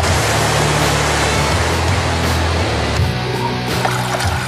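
Class 3 whitewater rapids on a kayak run give a loud, continuous broadband roar of rushing water that stays dense and even throughout, with a low steady hum underneath.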